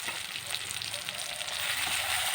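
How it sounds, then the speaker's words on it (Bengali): Ginger and chilli spice paste frying in a pan, a steady close sizzle with crackling that holds throughout and grows slightly louder toward the end. "ভালো করে মশলাটা ভেজে নেব"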